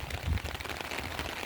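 Heavy rain falling outdoors in a downpour, a brief steady wash of drops with a low rumble underneath, close and continuous.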